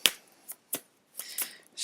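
A deck of angel cards being shuffled, a few short crisp riffling bursts separated by brief silences, close and fairly quiet.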